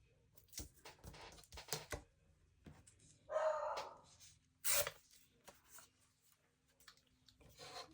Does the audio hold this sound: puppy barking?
yes